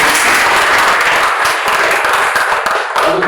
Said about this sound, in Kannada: ಚಪ್ಪಾಳೆ ಹೊಡೆಯಿರಿ.